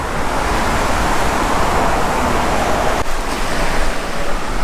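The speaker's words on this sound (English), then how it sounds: "we are pretty much just a few feet from the water here" Ocean surf washes continuously onto the shore a few feet away on the windward coast of Oahu near Kailua, a loud, broad roar mixed with wind buffeting the microphone and no talking.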